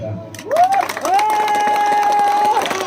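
A crowd at an outdoor public gathering in Teliamura, Tripura claps scattered and steadily throughout, with murmuring, while a loud sustained whistle-like tone rings over it.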